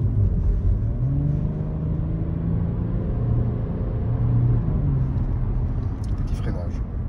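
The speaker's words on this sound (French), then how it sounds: "Petite accélération." Audi A4 Avant 2.5 TDI V6 Quattro diesel accelerating gently, a steady low engine rumble with rising whir heard from inside the car, continuous throughout.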